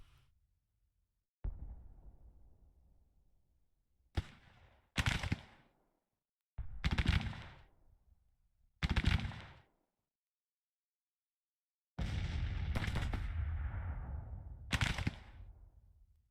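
Artillery and gunfire from a Civil War strategy video game, heard as a row of separate sharp booming reports spaced across the stretch with quiet gaps, then a longer sustained rumble of massed firing near the end.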